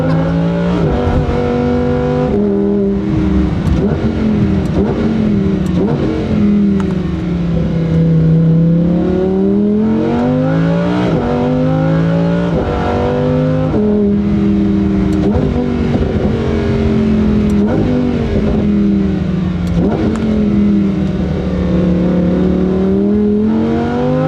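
A Lamborghini Huracan EVO RWD with its mid-mounted engine revs hard while driving through the Black Forest. Loud, continuous engine howl rises and falls with repeated gear changes and throttle sweeps.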